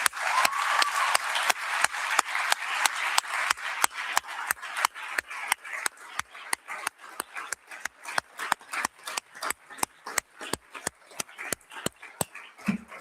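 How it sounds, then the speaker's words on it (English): A conference audience applauds the team, an initial burst of many hands that thins into slow, regular, rhythmic clapping, fairly close and gradually fading. "to just give a round of applause to the team"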